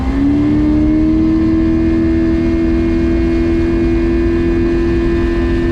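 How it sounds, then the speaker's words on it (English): Glastron speedboat engine running steadily at half throttle on a speed run, a loud continuous drone with a sustained tonal hum and rushing wind and water noise, no voices. "Top speed run. And we're at half throttle."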